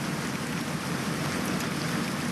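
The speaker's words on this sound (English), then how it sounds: "The rain is still coming down right now." Rain keeps falling at night after a severe storm outside a rural fire station, a steady, dense hiss filling the scene with no voices over it.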